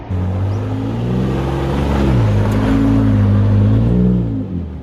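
A 2018 Ford F-150 Raptor pickup drives through the Dubai desert, its engine a loud, close, steady drone that climbs in pitch as it accelerates, with no one talking.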